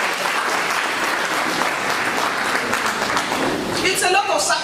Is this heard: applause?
yes